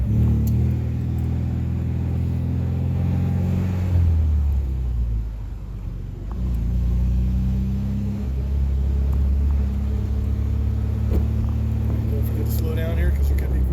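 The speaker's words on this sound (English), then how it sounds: "You see how the engine revved up to catch up with the speed of the car?" A 1968 MGB's engine drones low and rumbling, its pitch climbing as it revs up under engine braking, while people talk inside the car.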